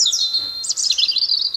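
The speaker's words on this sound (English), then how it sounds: "Robin." A robin sings alone and close by, a quick sequence of sweet, high chirps and warbling trills that flows without a break for under two seconds.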